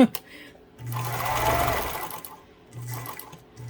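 A Pfaff 230 sewing machine stitches in two close bursts of rapid, even mechanical whirring with a low motor hum, separated by a brief pause, while a person speaks quietly around it.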